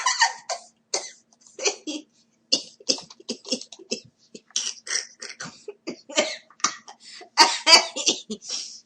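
A person coughs repeatedly at close range in a long run of harsh, bursty coughs with short gaps, growing louder and more forceful toward the end.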